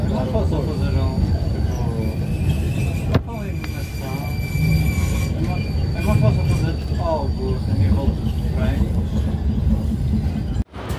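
Inside a moving tram on Vienna's Ringstrasse: a steady rumbling ride with rail noise and occasional squeals, while people talk nearby throughout.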